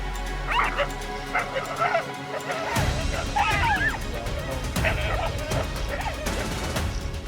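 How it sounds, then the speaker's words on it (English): Ethiopian wolves snarling and yelping while attacking honey badgers, a close, chaotic mix of growls, yips and whines with scuffling thuds and a sharp crash, backed by a constant noisy ambience. "the wolves charge in, baring their teeth and growling fiercely"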